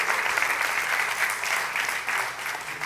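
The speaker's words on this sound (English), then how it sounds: "let's give a round of applause for the student leaders who created that logo" An audience at a school conference applauds student leaders, a steady wash of many hands clapping that sustains evenly throughout without talk over it.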